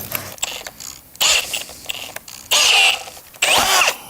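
A power driver runs screws with countersunk heads into the track of a Korniche aluminium bi-folding door in short whirring bursts, three louder runs among quieter clicks and gaps, close by with no talk.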